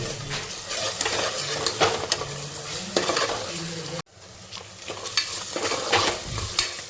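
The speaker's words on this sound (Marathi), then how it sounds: "मी आल्या लसूची पेस्ट टाकले त्याला व्यवस्थित परतून घेऊया" Ginger garlic paste stirred and sautéed in a pot, with a steady sizzle and repeated scraping stirs of a utensil against the metal, close and fairly loud, briefly cut off midway before resuming.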